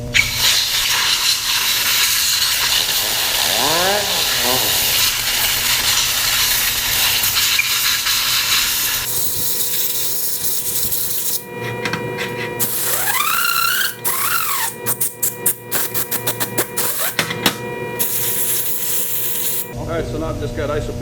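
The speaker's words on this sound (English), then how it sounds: "we just blow it down and clean it with everything installed." Compressed air hisses loudly and steadily as it blows down a press brake assembly, with a changing, sputtering blast midway and a voice talking over it.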